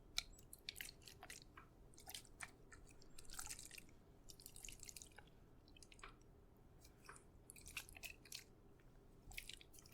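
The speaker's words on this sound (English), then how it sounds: "Nice water sounds." Quiet, close ASMR water sounds: scattered wet drips and squishy taps spread irregularly over a soft background hiss.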